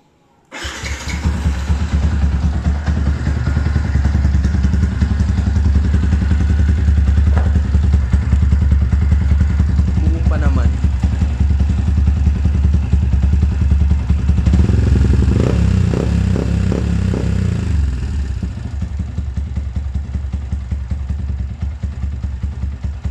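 Motorcycle engine fitted with a Mody5 power pipe exhaust, run with the exhaust uncovered, starts up and then holds a loud, raspy, steady idle close by for over twenty seconds, with some brief clatter partway through.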